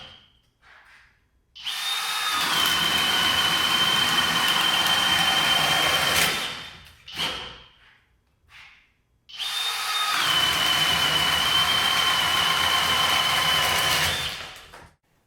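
A Makita or Flex hammer drill bores two holes with a self-feed bit, each a steady loud whine of about four to five seconds with a short burst of spin-up between them and no talk.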